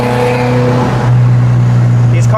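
Porsche 914 with a 2.0 engine accelerating on a test drive, a steady engine drone heard from inside the car that shifts to a lower, heavier tone partway through, continuous and fairly loud.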